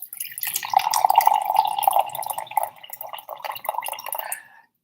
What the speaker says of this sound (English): so I'm gonna pour my drink